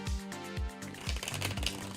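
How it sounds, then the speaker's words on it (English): A tarot card deck being shuffled by hand, with four riffling bursts of cards flapping and slapping together at a steady pace, close and fairly quiet, alone without talk. "let's just kind of maybe 2 more shuffles should do it"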